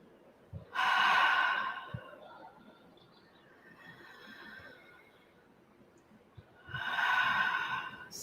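Two strong, drawn-out mouth breaths, each an inhale followed by an exhale, are heard at the start and again near the end. A softer, quieter breath fills the pause between them, and no talking is heard in the clip.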